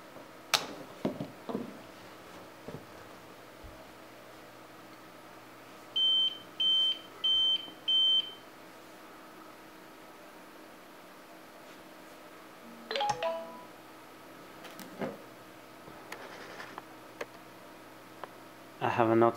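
An APC Smart-UPS 750 gives four short, evenly spaced electronic beeps, close and clear, after its AC power is disconnected, with faint clicks and handling noise around them and no talking.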